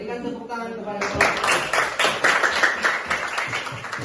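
Students in a classroom break into a round of rhythmic clapping for a group after it answers, the claps steady and fairly close, following a brief moment of a voice speaking.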